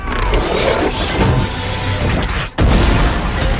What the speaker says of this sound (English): I thought it was gonna be a bigger explosion